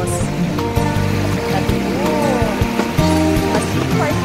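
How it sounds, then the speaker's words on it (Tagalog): A shallow river runs with a fairly strong current, giving a steady, close rushing and gurgling of water throughout, with no clear talk on top. "So, dito, medyo malakas na yung agos."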